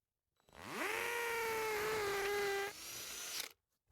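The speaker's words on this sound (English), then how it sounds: "Now all of these positions are marked, I can drill" A power drill boring holes into a wall, a single burst that winds up quickly into a steady whine, dips as the bit bites, then stops after about three seconds.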